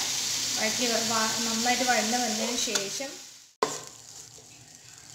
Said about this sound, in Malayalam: നന്നായിട്ട് വഴറ്റുക.